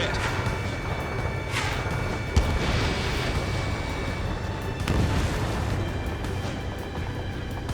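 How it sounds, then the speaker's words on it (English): A missile strikes its target and explodes in the jet combat game Ace Combat 7, with heavy booming blasts and rumbling crashes over a continuous roar of engine noise and battle sounds. "Missile hit."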